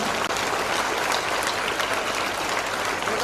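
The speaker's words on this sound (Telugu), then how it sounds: "ఆ అమ్మాయికి మరొకసారి గట్టిగా క్లాప్స్ ఉంటండి" An audience at a school event in Siddipet claps for a student, a dense, sustained round of applause heard at moderate distance for a few seconds without speech.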